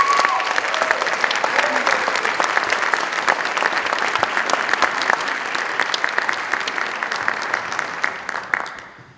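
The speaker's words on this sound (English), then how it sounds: "think that everyone in that association deserves a round of applause" Audience at a high school spring instrumental concert applauding, dense sustained clapping filling a hall for several seconds before tapering off at the end, loud and close, with no speech over it.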